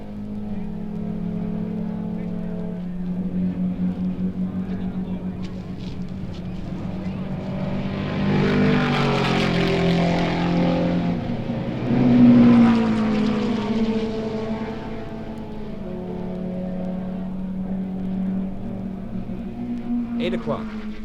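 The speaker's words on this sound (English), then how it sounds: "The 4-5 Maserati is going on, Fangio at the wheel" Racing cars at the 1957 Sebring race passing the pit area, with a distant engine drone that swells as a car approaches, peaks and fades away while someone talks throughout.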